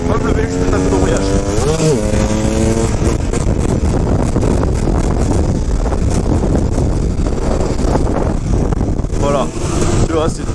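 A KTM 250 EXC motorcycle engine runs loud and close under wind rush, with rising and falling revs and a sharp rev swell when the clutch is popped; a rider talks over it.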